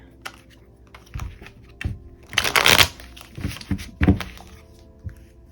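Tarot cards shuffled by hand at close range, a run of soft riffling slaps and thunks with a dense burst in the middle, with no talking.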